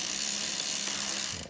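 Drivetrain of a Thorn Nomad MK2 touring bicycle with a Rohloff hub and freshly fitted chain, adjusted slightly too tight, ratcheting and buzzing steadily while backpedaled, a close, continuous mechanical whir with no talk.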